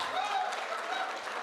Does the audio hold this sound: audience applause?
yes